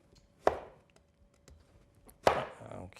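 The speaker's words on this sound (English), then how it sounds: "what I love about the cleaver, it just makes short work of anything." A cleaver chopping vegetables for a stir fry, two sharp, loud chops separated by a pause of quiet kitchen background, with no talk.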